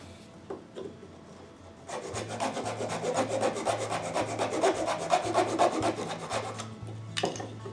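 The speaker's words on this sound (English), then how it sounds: "Throw it in my miter box. Make sure I cut it the right length." Wood trim is sawn by hand in a miter box, with a quick run of rhythmic rasping strokes after a few light taps, close and fairly loud.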